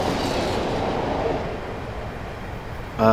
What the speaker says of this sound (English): I'm just going to allow the train to coast along here